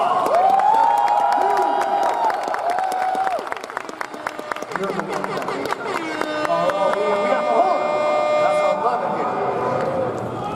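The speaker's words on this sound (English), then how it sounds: "Give yourself a round of applause." An audience at Anime Expo 2016's Late Comedy Showdown claps and cheers loudly, whistles and hoots rising through the crowd over a strong noisy roar, with a performer speaking over it early on.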